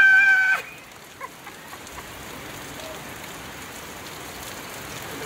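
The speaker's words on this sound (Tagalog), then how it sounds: "Iba yung ano, iba yung atake ng ulan." Rain falls in a soft, steady patter after a brief louder tonal sound at the start, the drizzle faint and even for the rest.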